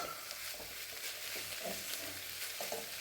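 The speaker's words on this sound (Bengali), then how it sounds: "এটা ভালো করে আর একটু ভাজা হবে। আমি হলুদ দিয়ে দিয়েছি।" Sliced onions with turmeric fry in a pan for a fish curry, giving a steady, close sizzle with faint stirring scrapes and no talk.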